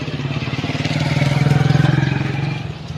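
A motor vehicle, likely a motorcycle, approaches along a street with a steady, close engine drone that swells toward the middle and then eases slightly, while children's voices are faintly mixed in.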